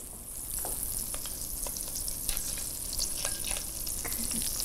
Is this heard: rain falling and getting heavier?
no